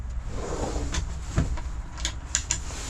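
A drawer in the kitchen of a Sunliving C65SL/S65SL RV slides and bumps shut once, a brief close knock over quiet room tone with no talk.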